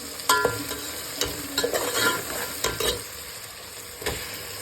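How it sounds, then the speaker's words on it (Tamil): Chopped tomatoes sauté in hot oil for a mushroom biryani, a steady close sizzle broken by repeated scraping stirs of a spoon against the pan, with no voices. "இதை நல்லா வதக்க விடுங்க நல்லா எண்ணெய் பிரிஞ்சு வர்ற வரைக்கும் வதங்க விடுங்க"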